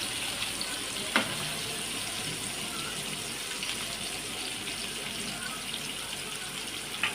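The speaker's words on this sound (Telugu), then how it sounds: "ఇప్పుడు రెండో వైపు కూడా ఒక 2 మినిట్స్ వరకు మీడియం ఫ్లేమ్లోనే బాగా ఫ్రై అవ్వనివ్వాలి" Jilebi fish fries in a pan over a medium flame, giving a steady, even hiss with occasional soft pops and crackles, close and moderately quiet.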